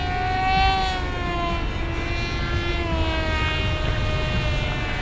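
A Hobbyking Yak 54 electric RC model airplane drones overhead with a high, whining propeller tone that slowly shifts pitch as it passes, steady and fairly loud outdoors with no talking.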